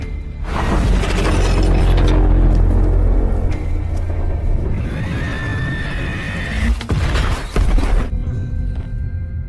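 Tank cannon fire in a battle between German Panther tanks and a Soviet T-34, a loud booming blast with heavy low rumble and crashing debris, followed by further rumbling and mechanical clatter.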